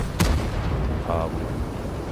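The FV215b tank cannon fires an AP round in a game, a single sharp loud blast followed by a fainter mechanical tone and low rumble.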